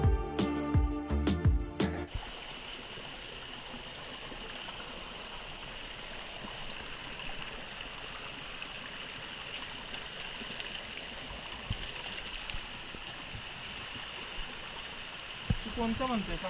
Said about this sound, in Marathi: पाण्याचा आवाज येत असेल ना तुम्हाला, खूप छान आवाज येतो आहे